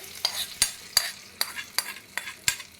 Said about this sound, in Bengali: দিয়ে আমি তরকাটা ভারী সুন্দর ভেজে দিলাম এই তরকাটা আমি মধ্যে দিয়ে দিচ্ছি